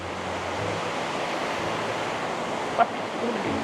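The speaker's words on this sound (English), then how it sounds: "We've been sleeping right next to this river. This insane waterfall." A waterfall on a mountain river roars in a constant, dense rush of water that fills the whole scene, with one brief click near the end.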